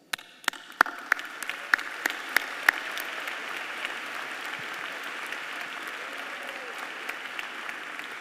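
An audience applauds graduating scholars at a spring diploma ceremony, starting with a few sharp individual claps that quickly swell into steady, sustained clapping from a large crowd.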